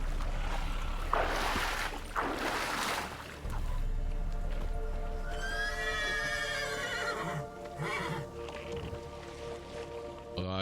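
A horse whinnies in The Witcher 3: Wild Hunt, a high, wavering neigh rising mid-clip over a steady game soundscape of music and low ambient rumble, near and fairly loud.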